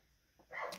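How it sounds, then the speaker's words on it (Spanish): A small dog gives a single sharp yip-like bark, faint at first and then louder, heard close by in an otherwise quiet indoor space. "Perdón por el ruido de los perritos."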